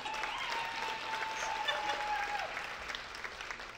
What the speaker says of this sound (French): Une vitrine, ça mérite des applaudissements.